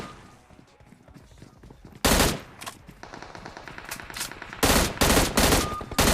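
Bursts of automatic gunfire in the battle royale game PUBG, several loud rapid volleys crackling close by after a quieter stretch, with faint talk in between.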